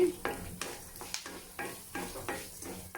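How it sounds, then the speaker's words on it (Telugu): Chana dal, urad dal, cumin and fenugreek seeds fry in a pan, stirred in regular scraping strokes about twice a second over a soft sizzle, close by and without speech. "టూ టూ స్పూన్స్ శనగపప్పు ఒక స్పూను మినపప్పు కొద్దిగా జీలకర్ర ఒక పది గింజలు మెంతులు ఇలా వేసుకున్నాము ఇవి కాస్త వేపుకోండి"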